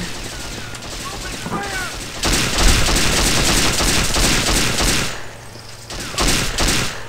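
Pistol shots and sustained gunfire in the James Bond 007: Nightfire video game, a dense burst of loud shooting that runs for several seconds, drops briefly, then resumes, with faint game sounds and a little talk at the start.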